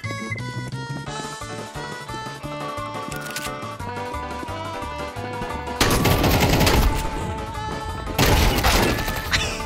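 Rapid automatic fire from the MAC-10-style Max 7 submachine gun in Counter-Strike 2, loud sustained bursts that break in over game music, pause briefly, then resume.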